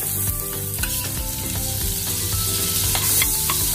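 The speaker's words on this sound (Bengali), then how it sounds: "কড়াই গরম হয়ে গেছে, তাহলে এখানে বাটার দিয়ে দিলাম" Butter sizzles loudly and steadily in a hot kadai, with a few clinks of a utensil against the pan and no talking.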